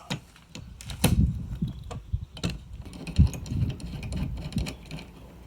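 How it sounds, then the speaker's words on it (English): A ratchet with a 13mm socket works on a wiper arm nut of an Audi S3 8V, giving quick irregular clicks and knocks close by in uneven bursts, with no speech. "Then you want your 13mm socket."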